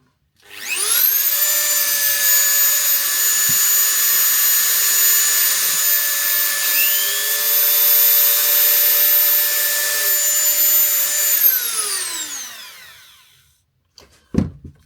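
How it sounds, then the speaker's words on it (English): A Dremel rotary tool runs at maximum speed, spinning up to a loud, steady high-pitched whine that holds for about eleven seconds, then winds down smoothly, followed by a couple of sharp clicks. "So we'll start with the Dremel."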